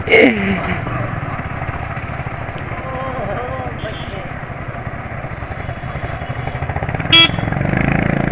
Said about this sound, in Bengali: চারখানা বাইক একদম সার সার করে যাচ্ছে